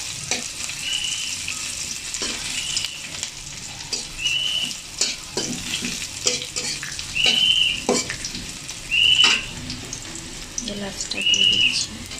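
Onion frying in a pan with whole spices such as cardamom, cloves and cumin gives a loud continuous sizzle with stirring scrapes, while short bird chirps sound faintly in the background.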